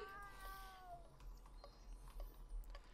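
A cat in The Sims 4 gives one drawn-out meow, faint against quiet game background noise.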